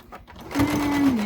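A sewing machine stitches a fabric sunglasses case with interfacing, its motor starting after a quiet moment and then running in a steady, close whir with a faint whine for about a second.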